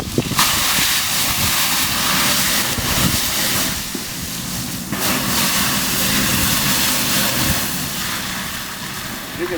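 Pressurized water extinguisher loaded with BlazeCheck spraying onto a burning pan, a steady loud broadband hiss and rush running the whole time with fluctuating bursts, no talk over it.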